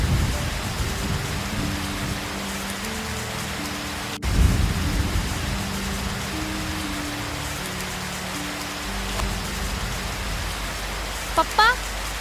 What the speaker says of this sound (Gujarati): જુઓ આ વરસાદ